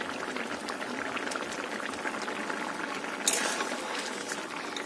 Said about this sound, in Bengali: চিকেনে জল দিয়ে দিয়েছিলাম সিদ্ধ করার জন্য, মনে হচ্ছে সিদ্ধ হয়ে গেছে